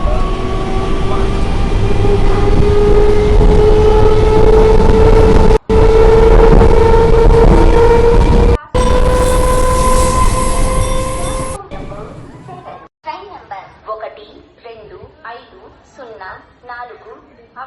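A Vande Bharat Express pulls into a station platform in an Indian train game, with loud rolling wheels, rising whine and squeal, then the station announcement voice continues after the train noise cuts away.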